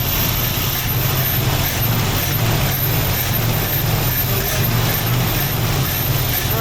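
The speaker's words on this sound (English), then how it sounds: "It's running on its own." A 1968 Ford Mustang engine, revived after sitting for 30 years, runs on its own with a loud, steady, unbroken rumble close by.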